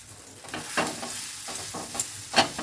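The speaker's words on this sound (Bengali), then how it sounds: "যখন জিরেটা চটপট করে উঠেছে সেই সময় দিয়ে দেব গ্রাইন্ড করে রাখা কড়াইশুঁটিটা।" Ground green pea paste cooking with crackling cumin seeds in hot oil, heard as a soft sizzle broken by scraping stirs and a few sharp pops, close by with no talking.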